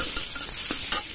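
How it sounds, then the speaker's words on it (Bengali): Chopped onion and chili frying in a pan, a steady close sizzle with soft stirring scrapes over a short moment. "আগে থেকে কেটে রাখা পেঁয়াজ লঙ্কা দিয়ে দেবো, হালকা করে ভাজবো ওগুলোকে।"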